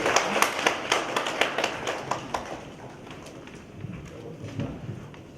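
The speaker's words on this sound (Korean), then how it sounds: "많은 박수 부탁드립니다." Audience applause at a 2015 community partnership conference held by Korea Hydro & Nuclear Power, a crowd clapping steadily in a hall for several seconds before fading into quieter room noise.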